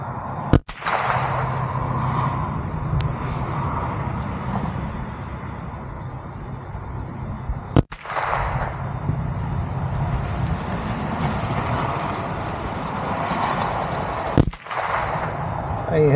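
A .22 Ruger 10/22 rifle fires three sharp, loud cracks spaced several seconds apart outdoors, with steady background noise between shots.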